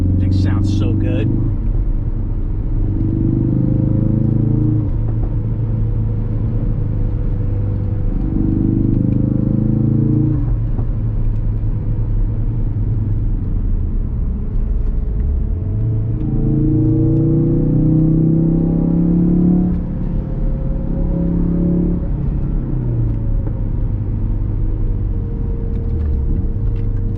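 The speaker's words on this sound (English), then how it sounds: "Listen to that bike, dude. Listen to that thing." A motorcycle engine roars steadily at close range while riding along the winding roads of the Hawk's Nest, revving up and down with shifting pitch as someone talks excitedly over it.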